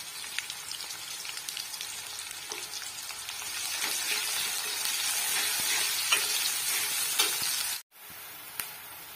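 Garlic and ginger fry in a pan with a steady, broad sizzle and faint crackles. It gets a little louder midway and cuts off abruptly near the end, leaving a short quiet gap before one brief pop.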